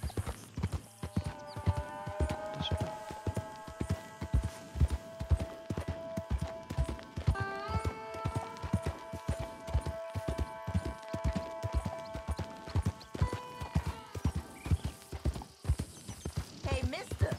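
A horse gallops steadily in Red Dead Redemption 2, hooves thudding in a fast continuous rhythm under sustained tonal music, close and prominent throughout.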